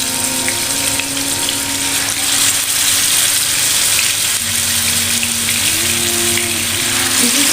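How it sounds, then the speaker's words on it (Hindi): Chicken tikka pieces frying in oil on a grill pan, a steady close sizzle with a faint continuous hum beneath and no talking. "अब हम इसमें अपने चिकन के टिक्के हैं वो डाल देंगे"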